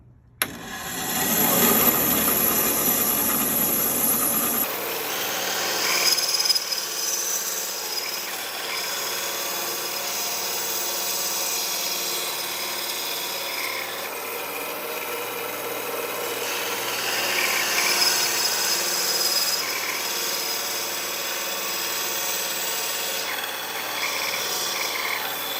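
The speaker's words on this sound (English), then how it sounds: "at the bandsaw, I'm going to cut just on each side of one of those lines" A bandsaw cuts wood for a segmented pen blank, giving a steady, close rasping whine that holds at an even level throughout with slight swells as the blade works through the stock; no one speaks.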